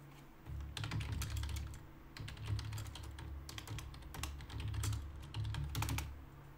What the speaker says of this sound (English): So you could hear the strokes of the keys of a keyboard